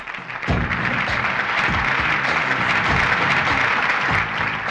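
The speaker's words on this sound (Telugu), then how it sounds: "క్లాప్!" A crowd at a prize-giving in a film scene breaks into loud, sustained applause, a dense wash of many hands clapping that starts abruptly and holds steady for several seconds.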